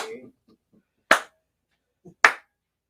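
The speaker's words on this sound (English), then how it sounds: "That was me slow clapping" Two sharp, isolated hand claps spaced about a second apart, slow and deliberate, with a bit of quiet speech at the start.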